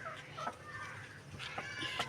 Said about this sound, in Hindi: व्यूअर्स एक मुर्गी हमारी ये है और दूसरी मुर्गी हमारी ये है